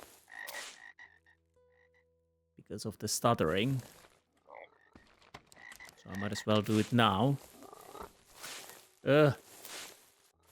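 Deep, gurgling frog croaks in a few loud bursts, with someone talking between them over an otherwise quiet background.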